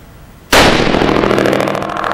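A single loud .308 rifle shot fired through a muzzle brake at a SHOT Show 2017 brake comparison, with a sharp onset and a broad, sustained blast and ring.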